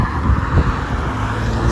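A car passing close by on a road, a steady broadband engine and tyre rumble with some wind noise, loud and continuous with no talk.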